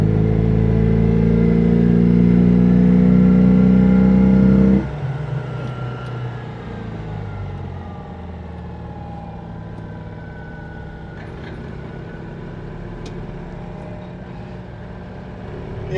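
Citroën 2CV engine on a lap of Silverstone, loud and strained with a strong low drone for the first five seconds, then dropping to a quieter steady hum with faint road and wind noise.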